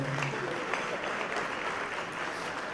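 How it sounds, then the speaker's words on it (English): Applause from an awards-ceremony audience comes as a dense, even wash of many hands clapping, moderately loud and unbroken from start to finish, with no talk over it. "Can you give her a round of applause?"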